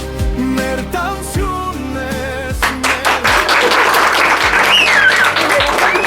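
Audience applause at a gathering in Etchmiadzin, steady broadband clapping that fills the clip under loud music with sustained tones and low beats, rising in density toward the end.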